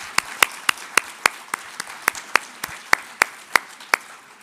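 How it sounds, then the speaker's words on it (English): Scattered claps ring out at an uneven pace at a Métis Nation of Alberta opening ceremony and AGM, sharp individual hand claps rather than a full crowd roar, fairly close and clear. "Another round of applause there."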